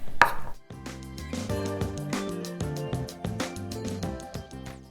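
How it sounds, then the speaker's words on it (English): A knife chops vegetables into thin slices steadily on a board with quick repeated strikes, while music plays throughout underneath. "we'll start out with cutting the veg"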